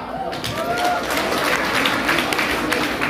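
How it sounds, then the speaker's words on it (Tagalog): Seminar audience bursts into applause and crowd noise, a thick wash of clapping with a few voices mixed in, sustained at full volume throughout. "Wala bang palakpak?"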